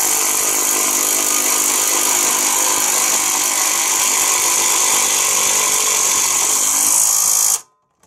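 A power tool drives screws into a Briggs & Stratton engine during assembly, giving a loud, steady whir that runs continuously for about seven seconds before cutting off abruptly into silence.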